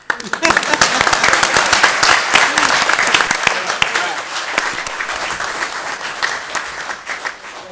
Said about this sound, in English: Now we clap.